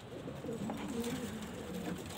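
Pigeons coo in a soft, repeated rolling pattern close by, with faint wing or rustling noise around them.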